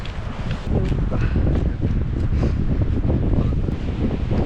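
A strong storm wind of about 20 m/s roars steadily outdoors, buffeting the microphone in loud, continuous gusts.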